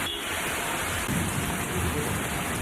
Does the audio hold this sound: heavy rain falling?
yes